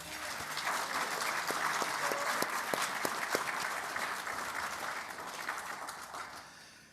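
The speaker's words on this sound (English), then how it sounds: "I'd like everyone to give Marion and her team a round of applause." An audience at a Rotary club changeover event in Melbourne claps, with dense applause swelling quickly and then tapering off over several seconds.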